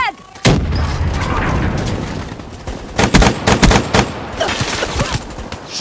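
A frag grenade booms amid heavy gunfire in the Call of Duty Black Ops 3 beta, a loud dense barrage of rapid shots and blasts that rises and falls, with sharp bursts around the middle and a muffled voice briefly under the combat.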